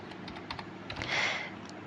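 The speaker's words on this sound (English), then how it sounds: "I'm going to type the program" Keystrokes on a computer keyboard while C code is entered, quiet irregular clicks in short bursts with a brief flurry near the middle, no voices.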